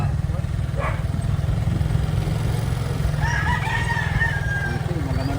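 On a farm in Palauig, Zambales, in the Philippines, a rooster crows and chickens cluck at a moderate distance, layered over a steady low engine drone.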